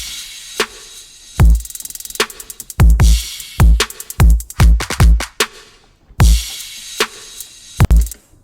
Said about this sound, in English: It's that same kick and snare from the build.